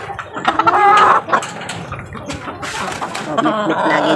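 Backyard pet chickens being given vitamins cluck and call close by in the morning, a loud burst of clucking early on, then softer scattered clucks over farmyard background noise.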